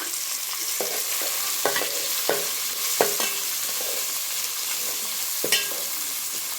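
Onion and curry leaves fry in oil in a pan with a loud, steady sizzle, punctuated by irregular clicks and scrapes of a stirring spoon; no talking.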